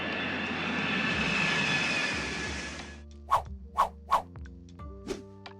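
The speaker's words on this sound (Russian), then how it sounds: "А теперь пристегните ремни безопасности, мы взлетаем." An Ilyushin Il-96-400M airliner roars with broadband jet engine noise for about three seconds, then the roar stops and a series of sharp knocks and clacks follows.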